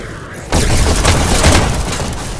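Shotgun fire in a video game: a sudden loud blast about half a second in, followed by a sustained roar of booming gunfire that fades slowly toward the end.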